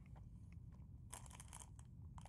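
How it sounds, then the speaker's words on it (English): Close-up bites and chews into a Taco Bell Crunchwrap, with a burst of crisp crunching in the middle of soft, moist mastication sounds over a low steady hum, no one speaking. "At least with the Crunchwrap, despite the name, not very crunchy."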